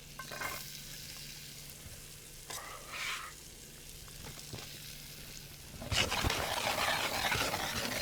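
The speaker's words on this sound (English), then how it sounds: "we'll throw in celery and shallot. We're going to saute that for a bit." Celery and shallot sauté in butter with a soft, low sizzle, a few faint stirring taps, and a louder hiss near the end; it is quiet and close, with no one talking.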